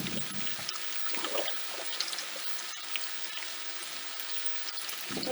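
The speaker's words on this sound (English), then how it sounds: "Keep on stirring these potatoes." Potatoes frying in a pan while being stirred, a soft, steady sizzle with scattered crackles and occasional stirring scrapes near the start and end, no voices.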